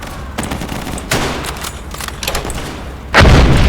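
Machine gun fire rattles through a loud battle in a video game set in a Volga River crossing, sustained bursts of automatic shots with heavier blasts and a sharp rise in volume near the end.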